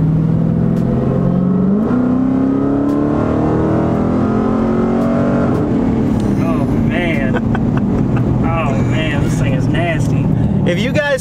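A Hellcat SRT car engine revs loudly and continuously nearby, with rising and falling throttle, while people talk and exclaim over it.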